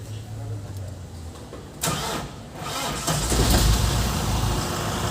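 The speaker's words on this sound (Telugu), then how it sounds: "బండి స్టార్ట్ చేసి చూద్దాం" A motorbike engine cranks and catches, then settles into a steady running idle, heard up close; the bike is in a workshop for a poor-pickup complaint with its MIL warning light on.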